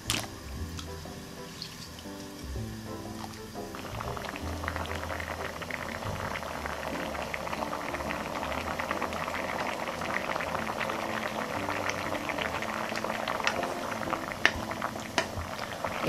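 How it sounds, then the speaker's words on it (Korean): Water with a little vinegar boils steadily in a pot with lotus root in it, a dense bubbling and popping that grows stronger after an initial quieter stretch. "연근을 넣어서 삶아주겠어요."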